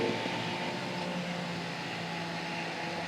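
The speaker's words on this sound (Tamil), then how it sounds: "ஸோ ஏ ஃபேன் வந்து பார்த்தீங்கன்னா இப்போ ரன் ஆகின்னு இருக்குது" A 12V 6-inch mini DC vehicle fan runs close by with a steady, even whirring hiss that holds constant throughout, without any voices.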